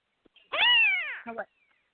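A single high, drawn-out kitten meow rises and falls, followed by a brief softer chirp, close and clear against silence.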